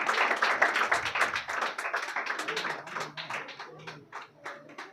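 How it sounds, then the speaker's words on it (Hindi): Steady round of audience clapping for Asna Ansari at a Republic Day celebration prize ceremony, many hands clapping close and fairly loud, thinning and tapering toward the end. "अशना अंसारी के लिए ज़ोरदार तालियां होना चाहिए।"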